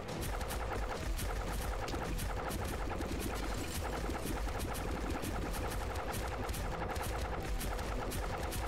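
Tridents rain down from the sky in the game God of Weapons, a dense nonstop barrage of rapid impacts and blasts over constant game noise, loud and unbroken throughout.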